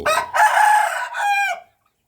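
A three-month-old young rooster crows loudly and close by, a long strained call that breaks and trails off, followed by a moment of silence.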